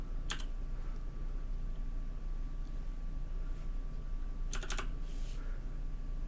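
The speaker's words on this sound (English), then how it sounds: "So I'm going to type in my code here." Computer keyboard keys tapped to enter a verification code, two short bursts of quick clicks separated by a quiet pause, close and soft in a still room.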